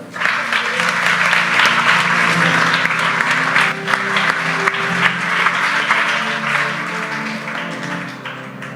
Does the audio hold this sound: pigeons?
no